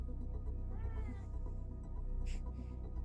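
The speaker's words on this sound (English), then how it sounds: "Oh, that's Jesse's cat." A house cat gives a single rising meow, faint and somewhat distant behind a steady humming background, with a short higher squeak shortly after.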